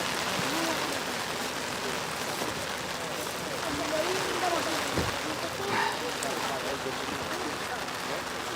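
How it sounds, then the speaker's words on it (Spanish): Heavy rain falls on a wet rally stage at a Pontevedra rally near Sanxenxo, a steady hiss of drops on surfaces up close with occasional heavier splashes. "Mucha lluvia y mojado."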